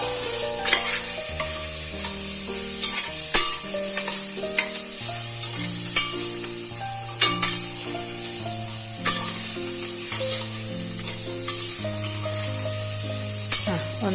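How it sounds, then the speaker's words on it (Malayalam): Chicken pieces frying in a pan with softened onion, stirred and mixed steadily, a continuous sizzle with spatula scrapes and clinks throughout, with background music playing over it. "അതിലോട്ട് ചിക്കൻ ഇട്ട് കൊടുക്കണം. ഇളക്കി യോജിപ്പിച്ച് കൊടുക്കാം."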